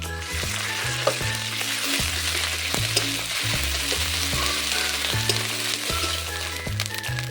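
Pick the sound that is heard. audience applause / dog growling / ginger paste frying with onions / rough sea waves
ginger paste frying with onions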